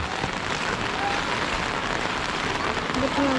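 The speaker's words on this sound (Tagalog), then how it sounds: "patuloy po ang pagbuhos ng ulan" Heavy rain pours down steadily during Typhoon Carina on a flooded street, a dense continuous hiss close by with faint tonal sounds near the end.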